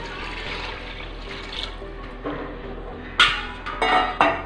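Three cups of water pouring steadily into a pot while making biryani, a continuous splashing rush with a few metallic clinks near the end.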